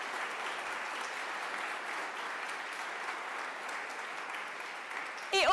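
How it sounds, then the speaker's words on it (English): Conference audience at the Greater Manchester Green Summit applauding the events team, a sustained dense wash of clapping from a large crowd, fairly distant and even, with a brief louder burst at the very end. "could we start the day with an absolutely massive round of applause for the GMCA events team who pulled all of this together?"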